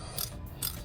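Ratchet wrench working on the bolts of a 1991 Ford Ranger power steering pump, giving two short close raspy clicking strokes under a faint steady background hum.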